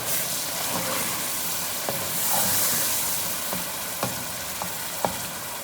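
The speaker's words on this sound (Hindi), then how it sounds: "ऑयल गर्म हो गया है। अब मैं इसमें पालक डाल रही हूँ।" Spinach frying in hot oil for mutton palak gosht: a steady, close hiss and sizzle with a few sharp taps of a utensil against the pan, no talking.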